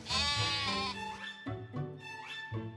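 Sheep bleating loudly and close by in a series of drawn-out, wavering calls, several overlapping, with no voices, connected to the early graphite mine near Borrowdale.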